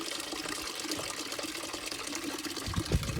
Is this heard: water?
yes